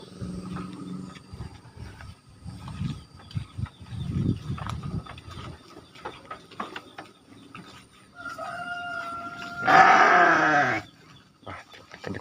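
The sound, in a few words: sheep bleating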